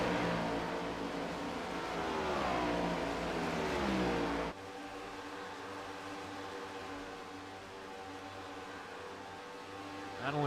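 Race car engines in a video game race at Chicagoland Speedway rev in a sustained, rising drone, then cut abruptly to a different, steadier engine note near the end, with no voices.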